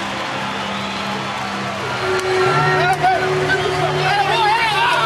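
Baseball stadium crowd in Texas cheering on its feet during an afternoon game, a dense roar that swells louder partway through, with a commentator talking over it and scattered whistles rising above.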